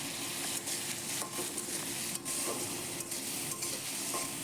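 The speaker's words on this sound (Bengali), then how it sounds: "এখন আমি সামান্য পরিমাণ জল দিয়ে দিলাম মশলাটা যাতে পুড়ে না যায়" Masala of turmeric and salt frying steadily in a pan for a dish of taro stolons and tengra fish, with a continuous close sizzle and scattered stirring scrapes, no voices.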